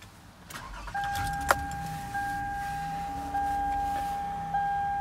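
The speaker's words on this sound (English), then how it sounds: "Gonna go ahead and start up the car here." Toyota Sienna engine starting, with a soft click, a brief chime-like tone and a steady low hum settling in, quiet and close inside the cabin.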